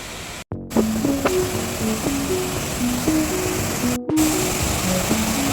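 A steady, full rush of falling water roars throughout at Chillithodu waterfall, Adimali, Idukki, with a melodic tune playing over it and two brief dropouts.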